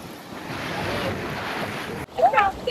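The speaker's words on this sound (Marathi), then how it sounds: "पाण्यातून चाललोय आम्ही आता." People wade through a monsoon-swollen river beside their farm fields, a steady broad rush and slosh of water filling the first two seconds before it cuts off and voices speak up close.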